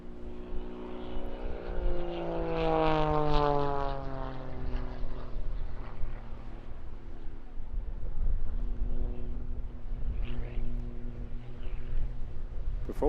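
Propeller aerobatic display aircraft performing vertical manoeuvres at the Eastbourne International Airshow, a steady droning engine note rising and falling in pitch as it passes, heard from a distance over open-air crowd noise.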